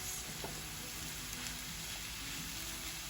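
Steady, quiet sizzling of vegetarian mince with Italian herbs and garlic cooking in a pan, a continuous crackle with no talking.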